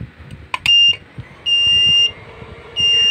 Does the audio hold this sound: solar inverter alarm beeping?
yes